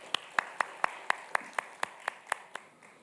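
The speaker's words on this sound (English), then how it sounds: "let's give them a hearty round of applause" About a dozen sharp, evenly spaced hand claps at a conference dialogue session, crisp and fairly close, with a quiet room behind them. The claps are sparse rather than a full crowd roar.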